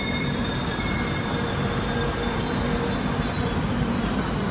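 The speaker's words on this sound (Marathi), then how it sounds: "पुणे सिकंदराबाद पुणे जनशताब्दी एक्सप्रेस." The Pune–Secunderabad Jan Shatabdi Express, running with a Central Railway rake, passes close by with a loud, continuous roar of wheels on rails and a high-pitched squeal that holds steady throughout.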